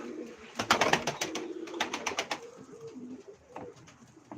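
Pigeons coo softly in a loft kept for Turkish play-breed birds, a cluster of throaty calls and rustles near the start, then scattered fainter coos and shuffling for the rest.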